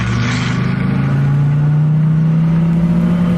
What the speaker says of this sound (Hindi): जैसे ही वो गाड़ी चलाने लगती है